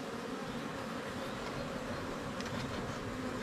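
A honeybee colony hums steadily and densely during an open hive inspection, with a continuous close buzz of many bees and no pauses or talking.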